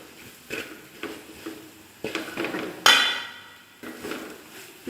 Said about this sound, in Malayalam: ലോ ഫ്ലെയിമിലിട്ട് നല്ല പോലെ ഒന്ന് ഇളക്കി യോജിപ്പിക്കുക